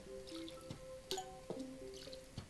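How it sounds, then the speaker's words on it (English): Zen Garden being watered in the Plants vs. Zombies video game, a few quiet separate water drips and splashes, spaced and tinkly, alone. "We'll go ahead and just water our Zen Garden."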